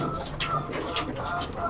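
A female racing pigeon gives a soft, throaty coo, close and clear over a short moment, with faint background murmur.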